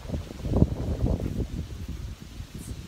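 Low, rough gusting wind buffeting the microphone, a steady rumbling roar with brief surges, close and fairly loud.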